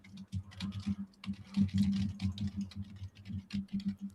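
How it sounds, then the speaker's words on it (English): Someone types steadily on a computer keyboard at close range, producing dense, irregular key clicks with brief pauses. "What are you typing, Rob?"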